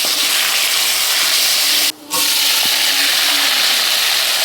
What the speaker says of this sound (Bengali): আর কয়েকটা তেজপাতা দিয়ে মোচাগুলো ভেজে নেব